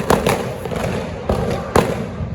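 Diwali firecracker bombs bursting outdoors, several loud, sharp blasts spaced unevenly, each followed by a crackling wash of noise, close and booming, with faint background voices.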